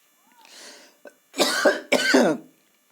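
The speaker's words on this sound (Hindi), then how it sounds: "खांसी हो गया थोड़ा सा।" Two loud, harsh coughs in quick succession follow a soft breathy throat sound, close up and with no talking.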